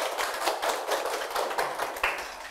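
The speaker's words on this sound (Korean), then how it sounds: "다 같이 박수." An audience claps together at a Buddhist monk's talk on managing anxiety: steady, dense group clapping with a rhythmic, slightly pulsing texture for about two and a half seconds, close and fairly loud, with no talking.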